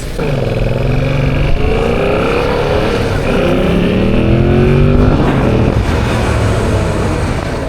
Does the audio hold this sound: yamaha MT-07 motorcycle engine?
yes